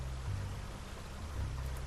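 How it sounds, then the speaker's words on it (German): Steady rain falls in a rainy noir detective game scene, a soft continuous hiss with a low rumble underneath, fairly faint and with no voices. "Es regnet immer noch."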